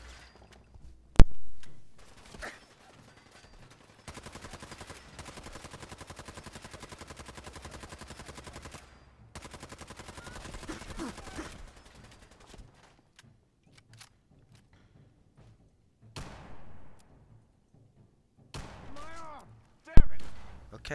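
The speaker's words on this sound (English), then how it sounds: "Do you not hear all these gunshots?" Bursts of gunfire in Fallout 4 crackle in rapid volleys, with stretches of sustained automatic shooting and a few sharp single shots, loud and close, while players talk over the action.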